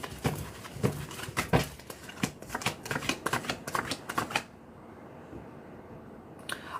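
Tarot cards shuffled fast and hard, a rapid series of sharp riffling slaps and flicks close up for several seconds, then quiet with one last flick.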